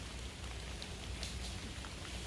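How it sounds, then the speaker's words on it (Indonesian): Rain falls on a hilly oil palm plantation as a steady, soft hiss with scattered droplet patter, quiet and continuous. "Belum dimulai tapi sudah hujan lagi."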